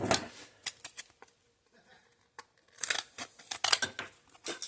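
Scissors snip plastic laminate end splash along a marked line, a close series of crisp cutting clicks in two clusters separated by a brief near-silent pause.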